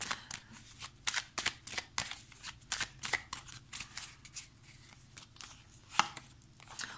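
Small Morgan Greer tarot cards being shuffled by hand, a close, steady series of crisp riffling bursts and soft slaps with brief pauses, no voice over them.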